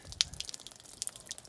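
Water sprays from a homemade outdoor shower and bounces off a vehicle bumper, giving close, irregular hissing spatters and drips with a few sharper splashes.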